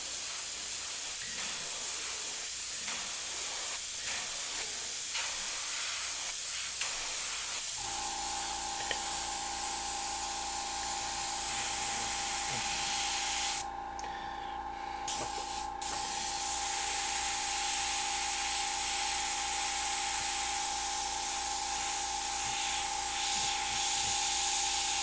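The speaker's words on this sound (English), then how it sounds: "Miniature airbrush magic." A miniature airbrush sprays paint to add texture to a skull and female design, a steady close hiss running unbroken for most of the stretch after a quieter start, with a brief dip partway through.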